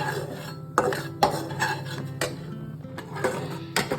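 Metal spoon scraping and clinking against a pan as semolina pudding with milk and sugar is stirred, with a few sharper knocks standing out from a steady low hum.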